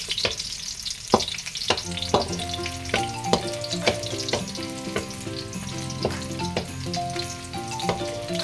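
Garlic sizzles in a hot pan as a Filipino chicken with sweet beans dish is started, a steady crackling fry broken by repeated sharp clinks and scrapes of a utensil stirring, close and moderately loud.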